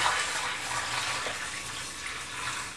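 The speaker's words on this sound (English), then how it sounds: "We're going to go ahead and add in our coffee malt stout to the carboy." Coffee malt stout being poured into a glass carboy for primary fermentation, a steady, hissing liquid gush that runs continuously and fairly quietly throughout.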